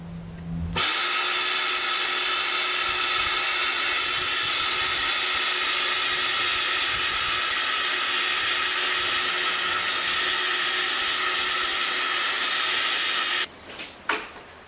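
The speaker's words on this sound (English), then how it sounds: "you're going to have a substantial amount of dust blow out the horn" A small dust collection cart runs with a loud, steady, broadband hiss as air and dust blow out its horn, starting abruptly and cutting off near the end.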